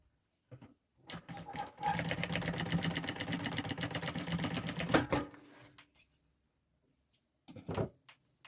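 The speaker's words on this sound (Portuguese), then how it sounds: "E fazer essa costurinha" A sewing machine stitches through a cut milk carton in one steady, rapid run of several seconds. Short handling knocks and rustles come before and after it in an otherwise quiet room.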